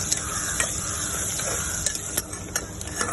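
Onion fries in oil with whole spices while a spoon stirs it, producing a soft, steady sizzle with a few light scraping taps against the pan.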